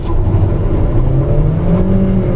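A 2014 Honda Accord Hybrid sedan's engine pulls hard under acceleration, a steady rising drone with climbing tones heard from inside the cabin, continuous and fairly loud with no talk.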